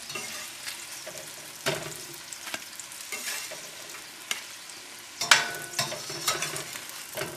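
Corn fritters frying over a moderate flame in a pan, a low, steady sizzle punctuated by occasional louder pops and scraping stirs of a utensil, with no voices.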